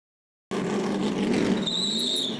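Race cars roar past at a track, a loud continuous engine drone with a high tire squeal rising through the middle, close and dense with no talk.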